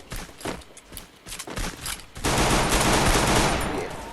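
Dense rapid gunfire from a shooter video game on an Indonesian server: scattered shots first, then a loud, continuous burst of automatic fire that fills the second half.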